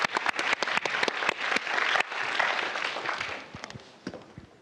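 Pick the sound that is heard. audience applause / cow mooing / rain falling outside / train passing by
audience applause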